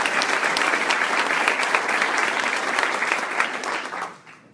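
Audience applause at Mayor Mack's State of the City Address, a dense, sustained round of clapping from a crowd that tapers off over its final second.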